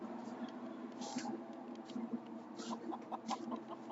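Chickens in a VR roleplay game cluck in short, scattered bursts over a steady low background hum, moderately loud and close.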